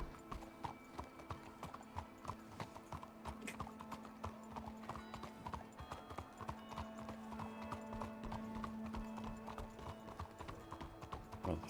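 Horse hooves clip-clop in a steady walking rhythm in a Red Dead-based video game, fairly faint, continuing throughout with a faint hum beneath.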